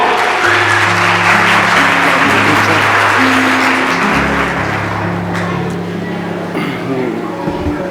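Audience applause welcoming the director of an academy onto the stage at a presentation event, loud and sustained throughout with steady dense clapping and some background hum beneath.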